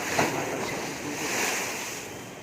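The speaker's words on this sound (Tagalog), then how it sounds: "nakikita yung alon ng mahampas at tumatalsik yung tubig" Sea waves crash and splash against the fishport at Agoo, a steady broad rush of surf with a sharper splash near the start and wind over the microphone.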